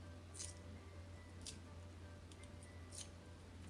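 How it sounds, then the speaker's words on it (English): Faint, quiet snips of kitchen scissors cutting scallions, about four crisp cuts spaced irregularly, over a low steady hum. "just use my kitchen scissors and chop some of that as well"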